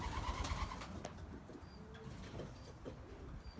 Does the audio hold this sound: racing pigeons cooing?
yes